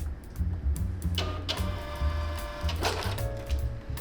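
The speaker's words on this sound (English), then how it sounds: "if I print the same label" A Star Micronics mC-Label 2 label printer runs a label on continuous media, giving a steady close mechanical whir with rhythmic low pulses and brief higher whines, with no talking.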